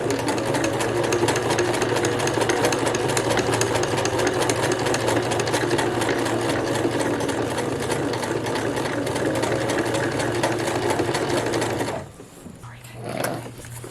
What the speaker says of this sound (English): We're just going to sew all the way down, just trying to keep that the same distance from this row of knits.